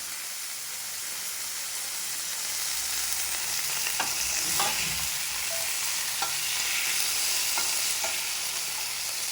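Chillies, dried red and green, with a pinch of salt sauté steadily in a pan for guava chutney, a continuous close sizzle broken by a few sharp stirring scrapes.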